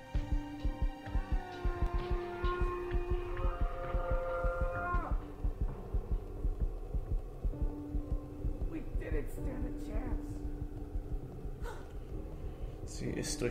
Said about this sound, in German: dieser Herzschlag im Hintergrund gerade